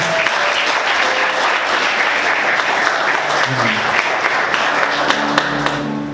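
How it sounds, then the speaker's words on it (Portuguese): A church congregation applauding together during a Portuguese-language worship service: a loud, sustained wash of many hands clapping that holds steady for several seconds, then eases slightly at the end. "Vamos aplaudir ao Senhor"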